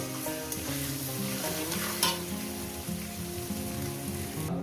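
Onions frying in a pan for katla fish curry: a steady crackling sizzle with repeated scraping stirs of the spatula, close and continuous, with no one speaking.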